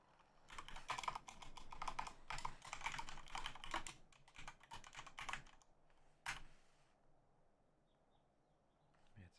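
Fast, steady clatter of keys on a computer keyboard, close and fairly loud, easing into sparse taps and a near-silent stretch toward the end.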